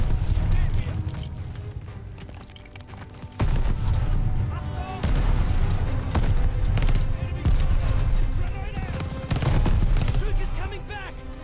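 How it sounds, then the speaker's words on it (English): Enemy machine gun fire in Call of Duty: Vanguard, set at Tobruk, rattles in repeated loud bursts and volleys with sharp impacts and booms, over continuous game noise. "Enemy machine gun!"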